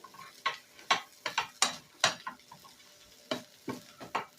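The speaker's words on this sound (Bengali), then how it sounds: "এবার আবারও নেড়ে নেব চিনি আর ঘিটা দিয়ে" Lachha being stirred with sugar and ghee in a pan, giving a series of irregular scraping, clinking strokes with quiet gaps between them and a faint sizzle underneath.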